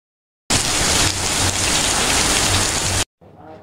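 Heavy downpour outside drums in a dense, loud, steady roar of rain that cuts off abruptly, followed by a brief fainter patch of sound.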